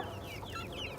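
A backyard flock of seven-week-old chickens clucks softly, several short overlapping calls rising over a low farmyard hum.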